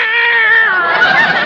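A cat gives one loud, close, drawn-out meow, used as a sound effect in the 1949 old-time radio comedy broadcast Our Miss Brooks.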